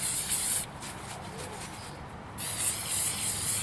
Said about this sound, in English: you're not going to spray as much with the Easy Tack Krylon